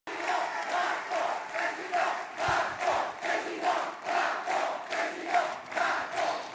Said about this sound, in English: The crowd at his headquarters is currently shouting Emmanuel Macron